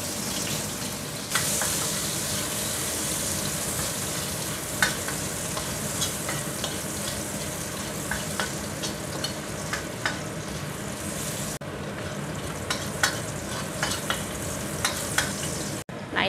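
Garlic and chili stir-fry sizzling loudly in a pan, a steady bright crackle throughout with intermittent scraping clicks of a spatula stirring, close and alone with no talk.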